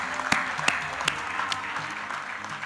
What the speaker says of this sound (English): Can we have another round of applause before I declare?